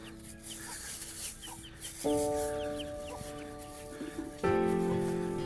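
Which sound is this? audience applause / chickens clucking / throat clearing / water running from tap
chickens clucking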